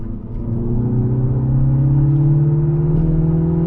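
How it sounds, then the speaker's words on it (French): A Mini Cooper S convertible engine drones steadily and loudly up close, its pitch rising slightly as it accelerates, with a low rumbling hum throughout. "quand je vous disais que le son moteur était vraiment pas oufissime"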